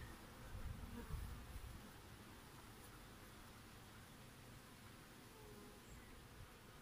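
A dense, steady drone of many agitated bees buzzing up close during a beehive inspection, slightly louder at first, forming a continuous hum with no voices.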